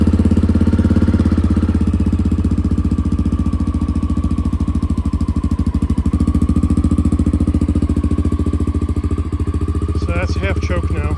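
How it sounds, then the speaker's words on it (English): A carbureted motorcycle engine runs at a loud, close, steady idle with a fast regular pulsing beat throughout, a voice speaking briefly over it. "Let's see if we can get this thing started today. Carbureted bike."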